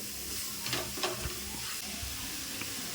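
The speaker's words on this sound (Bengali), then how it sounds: "ভালো করে মশলার সাথে মাখিয়ে নেব।" Grated carrot and beetroot being stirred with turmeric and spices in a pan, a soft, close sizzle with gentle scraping strokes of the spoon, faint and steady throughout.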